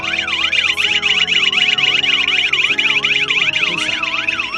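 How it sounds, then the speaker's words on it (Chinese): A two-way car security alarm siren blares loudly and continuously after a car door is opened while armed, a rapidly sweeping, warbling electronic wail repeating in quick cycles close by. "打开车门，警报，遥控器收到这个信号，你看喇叭会一直叫"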